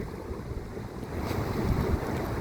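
Wind buffets the microphone by a cold, clear river with a low, rumbling roar that grows stronger, with a faint wash of water in the background.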